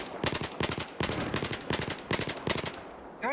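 M16 rifle fire in Battlefield 4 on the Metro map rattles out in several rapid bursts of sharp, loud shots, separated by brief pauses, with no voices.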